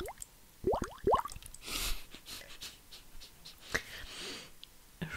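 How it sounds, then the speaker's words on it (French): Bubbles blown through a wide bubble tea straw make gurgling, sloshing pops in a few bursts, close and fairly loud, used as a horror sound effect; there are short pauses between bursts and no speech. "C'est une paille à bubble tea, donc les bulles seront plus grosses."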